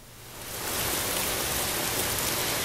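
Intense rainstorm pouring down on a garden with silver maple trees, a dense steady roar that swells in over the first second and then holds loud and constant.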